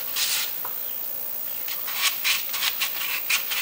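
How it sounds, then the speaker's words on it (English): Hand sanding along the thin edges of a Peavey Reactor guitar body while stripping old paint, a series of short scratchy rubbing strokes, close and alone, more rapid in the second half. "I'm gonna go ahead and do some hand sanding on these edges right here"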